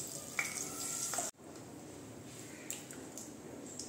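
Whole cumin, dried chilli, cardamom, clove, cinnamon and bay leaf sizzling in hot oil, a faint crackling hiss with a few light clinks before a short break, then a softer, steady sizzle.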